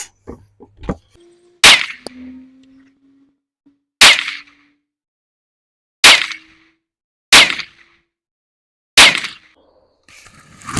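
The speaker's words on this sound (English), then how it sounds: "We're going to shoot 5-shot groups with this rifle with each of those 3 rounds." Budget PSA AR-15 rifle firing a 5-shot group of M193 ammunition: five loud, sharp cracks spaced about two seconds apart, each with a short decay, with a few small clicks and handling noises between shots.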